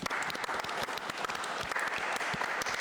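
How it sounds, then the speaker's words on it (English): Studio audience applauding guest Kyle Davies, a steady dense burst of clapping that holds for about three seconds, close and fairly loud with no talk over it. "applause for this guy again"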